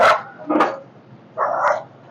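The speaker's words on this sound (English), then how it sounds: "Look at the doggies. Beautiful dogs." Golden retrievers bark three times in quick succession, sharp and fairly close, with short gaps of quiet between the barks.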